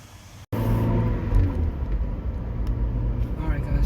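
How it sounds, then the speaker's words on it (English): A truck pulls away on its first drive after a third member replacement: a brief dropout, then a steady, close, low engine and road rumble that swells slightly and holds. "Driving the truck for the first time"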